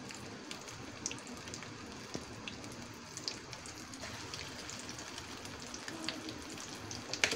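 Egg chops fry in very hot oil, a quiet, steady crackling sizzle with small pops scattered throughout, continuous and without talk.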